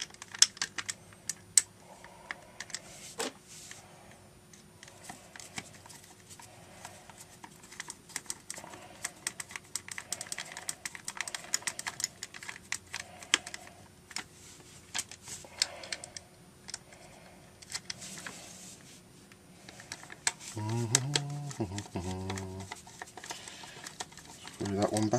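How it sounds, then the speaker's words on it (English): Screws being driven back into a Quickshot joystick by hand, faint scattered clicks and small ticks of the screwdriver and plastic case over a quiet background, with a voice speaking intermittently. "Let's put the screws back in."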